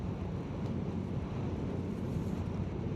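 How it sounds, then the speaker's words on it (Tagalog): Wind roars over the microphone outdoors in Claveria on a rainy, blustery day, a constant low rumbling buffet that stays loud and unbroken throughout. "At mahangin din."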